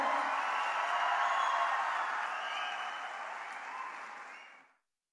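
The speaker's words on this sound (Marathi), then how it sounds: "प्रचंड टाळ्यांच्या गजरामध्ये आपण बानगुडे सरांचं स्वागत करणार आहोत" An audience in a hall gives sustained, dense applause to welcome the history scholar and speaker Nitin Banugade Patil. The clapping holds steady, then thins and fades out after about four and a half seconds.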